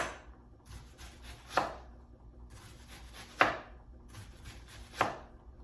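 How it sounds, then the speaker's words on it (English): A knife chops an onion on a cutting board while dirty rice is prepared: three short runs of quick, crisp chops, each ending in a firmer thud against the board, close and clear with quiet pauses between. "now once I've cut into the onion, so I cut this way, cut down, now I'm just going to cut slices all the way back"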